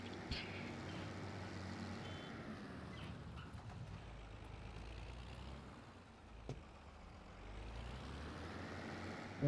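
A tractor forklift runs on a farm, a steady low engine rumble that continues throughout with a brief dip and a small knock partway, no speech.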